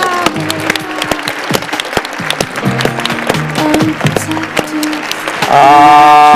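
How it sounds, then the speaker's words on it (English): Applause from an audience at a youth film and panel discussion event, honoring the panelists; sharp claps come in uneven bursts over tonal music-like sound, ending in a steadier sustained swell. "So let's give them a round of applause"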